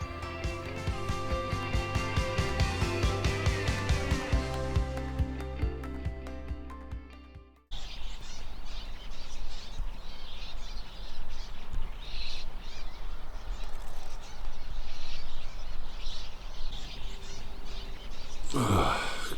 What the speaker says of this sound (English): And those damn birds.